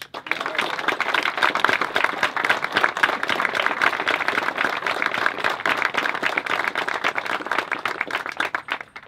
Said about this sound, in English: please welcome and give a round of applause for our 2018 Memorial Day Grand Marshal, Arnold Hammersley, and his wife, Midge